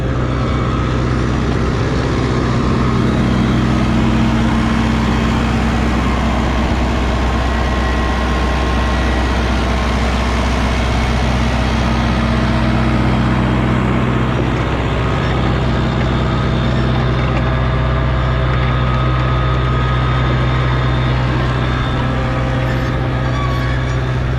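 A tractor engine works under load pulling a carrot seeder in a field, a loud, steady low diesel drone with constant hum up close for the whole stretch, without speech.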